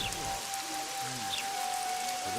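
Steady rain in The Witcher 2: Assassins of Kings, a constant hissing downpour with a faint tonal hum running beneath it and a few muffled background sounds, no talking.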